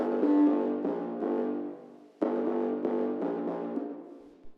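A deep, buzzy synth bass plays sustained notes in two phrases, each tail ringing out with reverb before the next starts.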